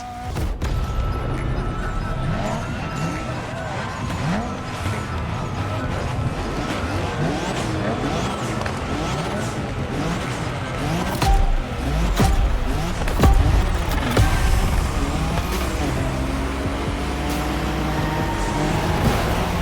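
A Nissan Skyline GT-R R34 drifts in The Crew Motorfest, its engine revving up and down in repeated rising sweeps while tires squeal and skid throughout, loud and close.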